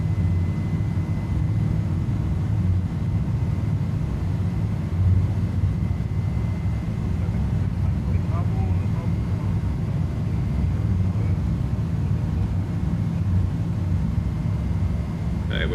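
A steady, loud engine drone from an Airbus A310 climbing out after takeoff in Microsoft Flight Simulator, a continuous low roar and hum that holds unchanged throughout, with voices talking over it.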